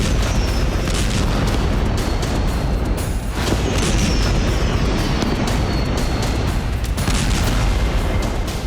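A missile strike on Dnipro with a TNT warhead produces a continuous, dense roar of blast and rumbling that fills the whole stretch. Sharper bursts and a faint whistling tone run through it.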